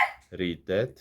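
A dog lets out two loud, close, quick barks in a row in an outdoor setting.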